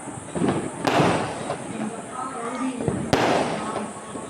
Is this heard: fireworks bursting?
yes